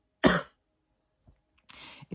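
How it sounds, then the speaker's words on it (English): A person coughs in two separate bursts, one sharp and close near the start and a rougher, longer one near the end, with a faint throat sound between them and silence around. "I should just go because I can't quit coughing now"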